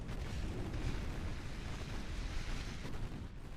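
Torpedo strikes on warships in the naval game Ultimate Admiral Dreadnoughts, heard as a continuous loud rumble of overlapping explosions with no clear gaps.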